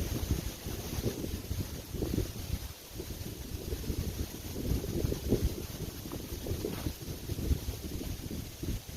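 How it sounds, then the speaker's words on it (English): Strong gusting wind buffets the microphone on a Pennsylvania disc golf course, a loud continuous low rumble with surges and no speech. "This wind is insane."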